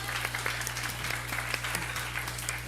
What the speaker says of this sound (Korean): 우리 방송반에게 한번 박수 한번 할까요?